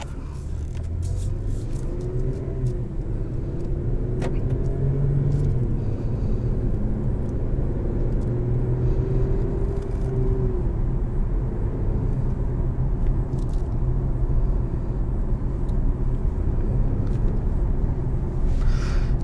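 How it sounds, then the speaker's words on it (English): A 2022 Infiniti Q60S Red Sport driving on the road, with a steady, close engine drone and low rumble of tire and road noise throughout, rising and falling gently in pitch as it cruises. "Without further ado, I say let's drive this Red Sport."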